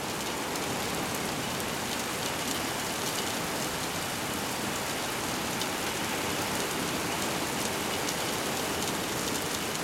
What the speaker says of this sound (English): Gradually, as this storm cell moves from right to left, we'll get heavier rain.